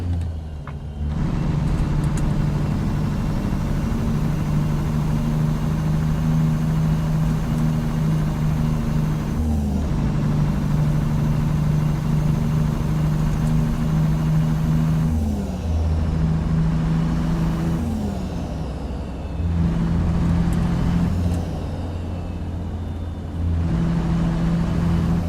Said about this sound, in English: not so good idle, not so good engine sounds, amazing jake brakes